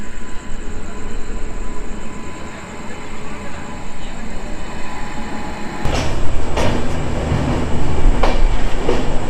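The Coromandel Express departs Khurda Road Junction with a loud, steady rail rumble, then rhythmic clicks and clanks from the wheels on the track as it gathers pace.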